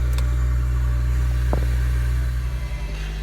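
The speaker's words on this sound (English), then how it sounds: "So now that the car is on," A 2000–2005 Acura RSX engine idles steadily after starting, a close, even low rumble with a single faint click partway through.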